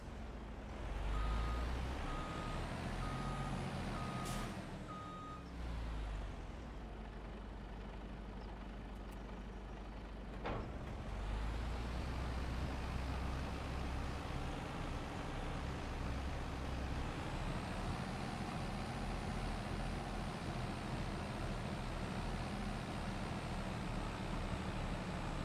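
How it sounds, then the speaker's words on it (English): A truck in Farming Simulator 25 labors across a field with a steady, loud engine drone, broken by repeated reversing beeps near the start and a sharp hiss like an air brake midway. "this truck very much not set up to drive on fields"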